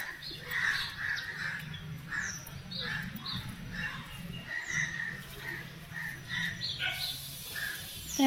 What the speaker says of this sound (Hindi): देखिए गाय के ऊपर कौआ बैठी है